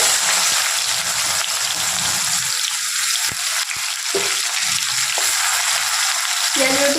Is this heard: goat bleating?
no